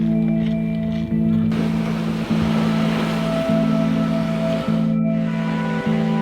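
Ocean surf at Uluwatu, Bali in the evening at high tide with fairly small waves, a steady broad wash of water close by, joined by a constant low motor-like hum with faint regular pulses.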